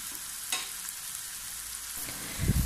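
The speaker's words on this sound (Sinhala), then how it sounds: "පොඩිවට කපාගත්ත අලු කෙසෙල් ගෙඩි කෑලිවලට කහයි ලුණුයි එකතු කරලා තමයි මම මේ තෙල් එකට දාන්නේ." Small ash plantain pieces coated with turmeric and salt fry in hot oil, giving a constant soft, close sizzle with a few utensil knocks and a louder rustling stir near the end, with no talking.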